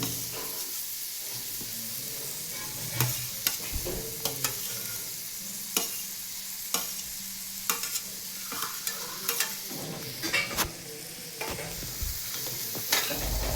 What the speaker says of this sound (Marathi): व्यवस्थित परतून जरा मिक्स करून घ्या.